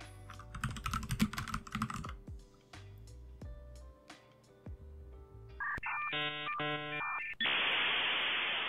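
Keyboard typing on an Orange Pi 5 setup comes in quick bursts of clacking keystrokes up close, followed by a few isolated taps, then electronic tones and a steady hiss toward the end.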